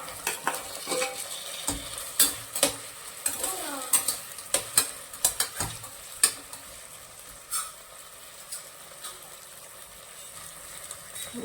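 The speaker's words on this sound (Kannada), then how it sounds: "ಈಗ ಇದಕ್ಕೆ ಆಲೂಗಡ್ಡೆ ಮತ್ತು ಬಟಾಣಿ ಹಾಕೊಳ್ಳೋಣ" A utensil scrapes and clinks irregularly against a pan as potatoes and peas are stirred and fried for methi pulao, over a soft continuous sizzle, with the stirring easing off toward the end.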